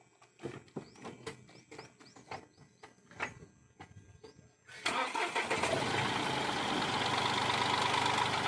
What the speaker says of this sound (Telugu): ఒకసారి వెహికల్ స్టార్ట్ చేయండి